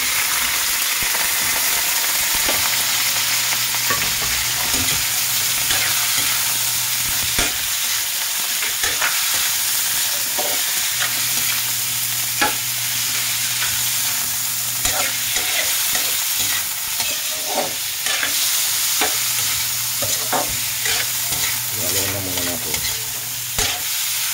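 Pork for Bicol Express sizzles loudly in a pan while being stirred, a constant frying hiss marked by repeated scraping and clinking of a utensil, with short low humming stretches underneath.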